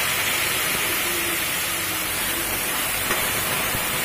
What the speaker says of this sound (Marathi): बटाटे चांगले परतून घ्यायचे।